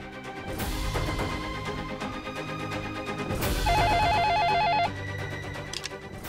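A telephone rings with a repeated electronic trill, loud and close, continuing in steady bursts for several seconds with no talking over it.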